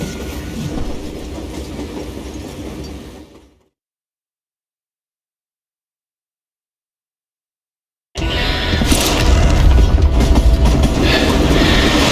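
Steam-era train in the Western video game Call of Juarez Gunslinger, loud rolling clatter of rail cars that cuts to total silence for several seconds, then returns even louder and closer.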